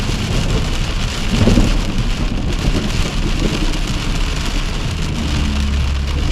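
Heavy rain pours steadily from the back end of a passing storm in Tornado Alley, a dense, loud hiss with a low rumble underneath and a brief swell partway through.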